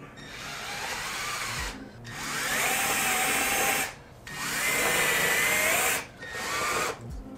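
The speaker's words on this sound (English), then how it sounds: "I'm gonna go ahead and drill it" A power drill whirs in three long bursts with short pauses between, drilling pilot holes into wood for a car subwoofer install, close and loud with no voices.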